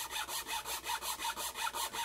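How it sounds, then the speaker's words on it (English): A chainsaw file rasps steadily back and forth across wood, cutting a notch for a gee haw whammy diddle toy, about nine even strokes in quick rhythm, close up with no talking. "I'm going to start right here with the chainsaw file, and I'm going to cut one notch"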